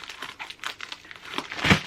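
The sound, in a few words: opening tear-resistant plastic packaging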